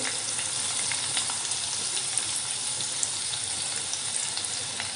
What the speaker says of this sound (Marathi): आपल्याला हे सगळं तेलावर छान असं परतून घ्यायचं आहे.